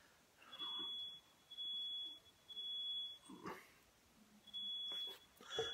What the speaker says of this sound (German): Meine Frau kocht und löst gerade den Rauchmelder aus.